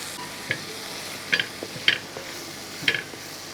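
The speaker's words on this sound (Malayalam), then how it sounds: "ഇതെല്ലാം കൂടെ ചെന്ന് ഇളക്കി കൊടുക്കും" A utensil scrapes and clinks against a pan a few times while vegetables for vegetable egg rice sizzle softly underneath.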